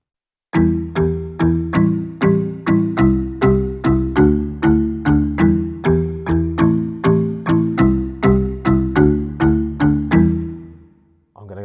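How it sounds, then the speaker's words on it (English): A kalimba voice on a Yamaha CVP809 digital piano: bright plucked metallic tines play a steady, repeating melodic pattern, about twenty evenly spaced notes ringing clearly, then the last note fades out alone. "and the kalimba sound"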